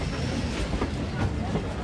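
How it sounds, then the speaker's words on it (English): A train pulls up at Ballygunge Junction in Kolkata, India, its steady rumble and rhythmic clickety-clack of wheels filling the platform continuously from near by, with faint voices in the background. "But here's the train. It's about to pull up next to me."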